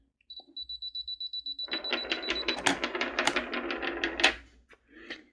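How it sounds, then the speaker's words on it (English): A DSLR camera fired by touch shutter gives a high electronic beep, then a rapid series of mechanical clicks and clatter, close and crisp, ending in a couple of softer clicks. "I will touch this object and it will click a photo."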